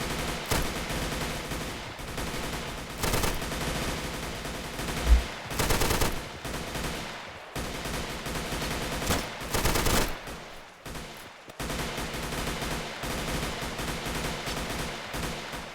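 Gunfire from the plastic army-men video game Army Men: Plastic Wars crackles in repeated bursts and volleys, some sharp and loud, others more distant, with short lulls between exchanges.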